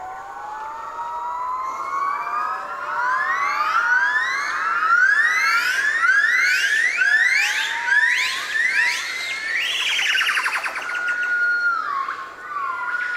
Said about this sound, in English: the canopy is filled with the calls of the yellow-cheeked gibbons